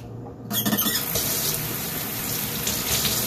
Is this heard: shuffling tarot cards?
no